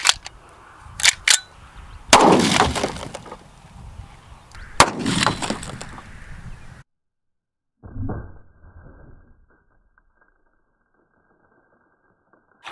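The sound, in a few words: 44 Magnum Desert Eagle gunshot splitting a cinder block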